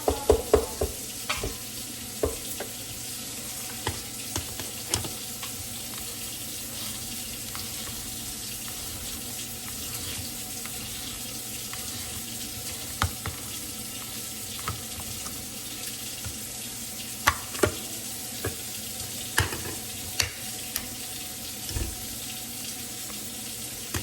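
Meat browning in a crockpot insert, a steady broadband sizzle running throughout with frequent sharp scrapes and clicks from stirring scattered across it, close and moderately loud with no talking.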